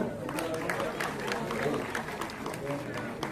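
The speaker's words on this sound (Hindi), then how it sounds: "एक बार जोरदार तालियां।" Audience applause at a student merit felicitation and career guidance ceremony, a steady dense patter of many hands clapping for the full stretch, with crowd noise and some voices underneath.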